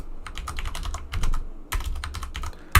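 Close, crisp keystrokes come from typing on a computer keyboard in quick irregular bursts, with a short pause in the middle and a louder thump at the end, and no voices.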